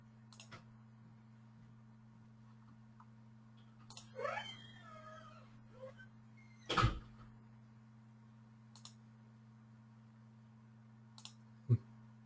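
A few isolated, sharp computer mouse clicks, spaced several seconds apart, sound faintly over a quiet, steady hum.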